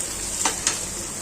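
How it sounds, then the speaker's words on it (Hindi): Grated raw mango and spices roasting in a pan over a low to medium flame, a soft steady sizzle with two brief scraping stirs close by. "और अब 2 मिनट के लिए फिर से लो टू मीडियम फ्लेम पे भुनेंगे।"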